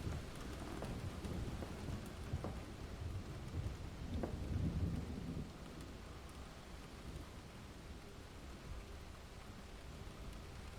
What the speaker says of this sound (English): That rain seemed to be getting louder.